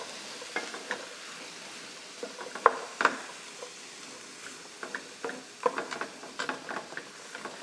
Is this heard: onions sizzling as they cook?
yes